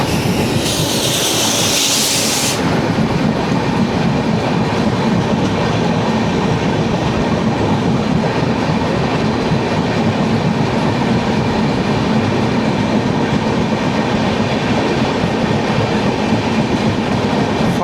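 The Farakka Express, a Balurghat–Bhatinda service, passes a crossing in late afternoon with a loud, steady rumble and a continuous clickety-clack of wheels on rail joints. A brief hiss is heard at the start.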